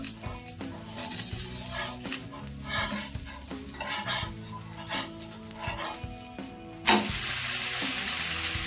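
A traditional Mangalorean gudu surnoli dosa sizzles in a little oil on a pan. The crackling fry runs on with stirring and scraping noises, then a sharp brighter hiss flares up near the end.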